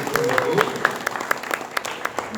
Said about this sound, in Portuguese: Então vamos aplaudir esse Revolução.